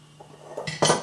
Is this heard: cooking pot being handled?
yes